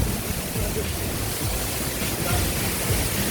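A waterfall at Mother Falls near Baler, a dense, steady rushing roar of falling water, close and continuous.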